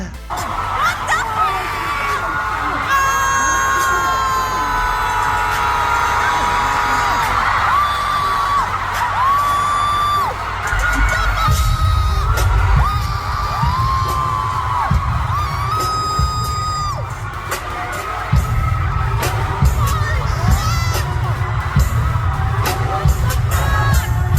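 Fans at a concert scream, cheer and whoop as a performer dances, a dense, loud crowd roar with shrill shrieks that swells higher midway and surges again near the end.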